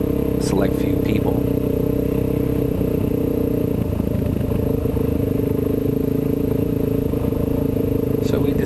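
A Kawasaki KLX dirt bike ridden slowly through grass on rough trails in second or third gear, its engine a steady low drone close by with faint rattles, under a voice.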